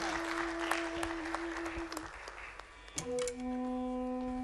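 Audience applause at an Urdu poetry mushaira, a scattered patter of claps with a few sharp individual hand-claps over a sustained hum of tones, settling toward the end.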